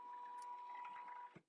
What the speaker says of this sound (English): So it is stitching these diagonal lines right now.